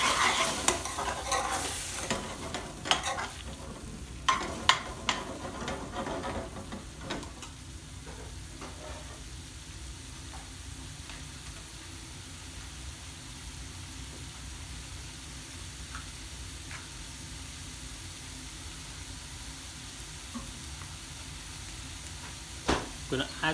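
Spices fry with a little gravy for a lamb balti, a steady sizzle under brisk spoon scraping and stirring against the pan for the first several seconds, then a quieter continuous sizzle with occasional taps.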